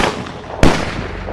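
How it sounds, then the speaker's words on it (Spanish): A gunshot fired into the air as a sound effect: one sharp, loud bang with a short fading tail, set against a low rumbling background. "Dio 2 disparos al aire"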